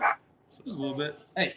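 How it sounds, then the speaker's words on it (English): Small terrier dogs yip and bark in the background while someone talks over them, the short barks coming in a few bursts beneath his voice. "sorry if y'all can hear my little shit dogs barking in the background."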